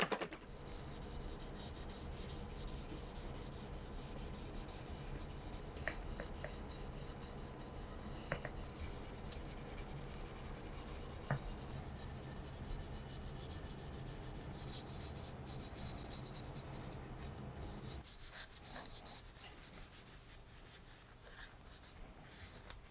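Steady soft rubbing and wiping as Osmo oil finish is applied to a sanded wooden picture frame, continuous and close, with a few light taps and no talking.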